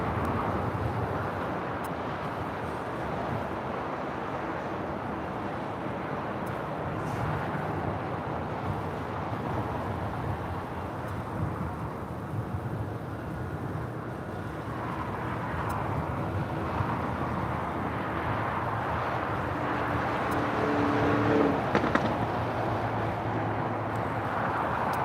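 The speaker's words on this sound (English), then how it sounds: "Turkish 777 rolling down at 24 left there on the north side" A Turkish Airlines Boeing 777 rolls down runway 24 left on the north side of LAX, a distant broad engine roar that holds steady and builds slightly toward the end, mixed with wind noise.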